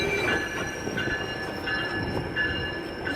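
A GO commuter train with a new cab car pulls into Maple station, its wheels squealing steadily in high tones over a low rolling rumble, loud and close throughout with no voices.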